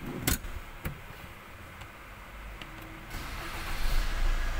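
A Maruti Suzuki Swift Dzire diesel AMT in neutral being started: a couple of sharp clicks, then a low engine rumble that catches and steadily builds in loudness, with no speech.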